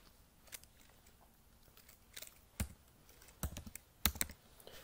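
Keys on a computer keyboard are typed in a few quiet, scattered taps and short bursts, faint and close, with no talking.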